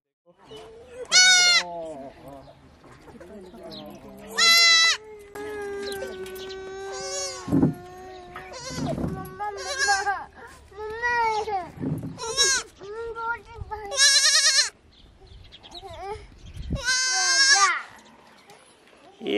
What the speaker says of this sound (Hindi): बच्चा है ये बकरी का